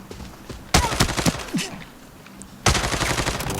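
Automatic gunfire in the video game Arena Breakout: a loud, rapid burst rattles out, breaks off, then a second dense burst follows near the end, close and dominant with no talk over it.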